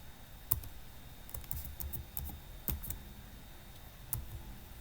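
Fingers tap at a computer keyboard while an Excel formula is entered, a faint, close series of irregular clicks in short bursts with small pauses between them.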